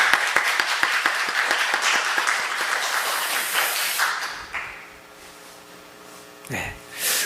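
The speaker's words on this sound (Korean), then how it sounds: "우리 하나님께 영광의 박수 올려드리겠습니다" A church congregation at a Sunday service applauds, a warm burst of clapping that fades after about four seconds, leaving quiet room hum.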